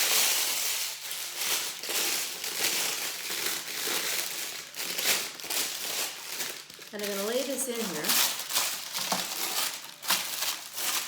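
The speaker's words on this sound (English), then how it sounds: "Got some parchment paper. Excuse the noise." Parchment paper crinkles and rustles in loud bursts as it is pressed into a metal freezer tray, the crackling continuing in close, uneven waves while someone talks over it.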